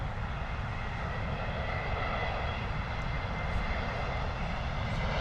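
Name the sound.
JetBlue A321neo landing at London Heathrow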